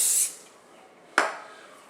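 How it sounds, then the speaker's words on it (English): Olive oil mists from a spray bottle into a metal container in two quick, soft hisses, the second a sharp short burst. "spray it with a little bit of olive oil"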